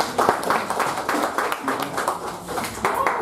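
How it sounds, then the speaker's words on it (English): Audience applause at an evening educational speaking session, dense rhythmic clapping from a crowd that holds steady for a few seconds with no talk over it. "A round of applause for the audience."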